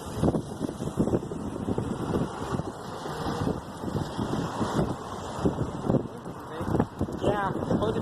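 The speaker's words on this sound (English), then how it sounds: "it's supposed to be 17-mile-an-hour winds" Strong gusting wind buffets the microphone throughout a bike ride, a rough, continuous rumble with irregular blasts, while people talk over it.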